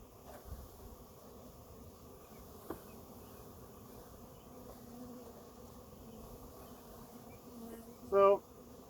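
A low, steady hum of honey bees fills the background as a new package of bees is poured into a hive outdoors, faint and continuous with a couple of small knocks and a short louder burst near the end.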